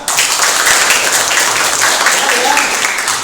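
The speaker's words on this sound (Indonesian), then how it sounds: "Tepuk tangan" A classroom of students claps hands together, a loud, dense wash of clapping that stays steady from start to finish and sounds close and crowded.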